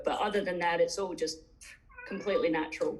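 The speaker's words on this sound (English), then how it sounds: "you can hear her meowing" A pet cat meows indoors in the background while someone talks steadily over it. The meows are brief and partly buried under the speech.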